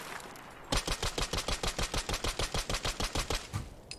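Rapid automatic gunfire from a weapon in Fallout 4, a steady burst of about twenty evenly spaced close, loud shots lasting roughly three seconds after a brief quiet start.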